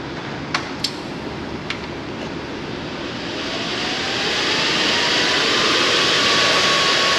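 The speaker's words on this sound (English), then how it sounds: "Can you hear that? Can you hear that fan? A lot of air. Getting that oil cool." An oil cooling fan on a Harley-Davidson motorcycle starts up and rushes with a steady, loud whoosh of air that builds and holds, with a few brief clicks near the start.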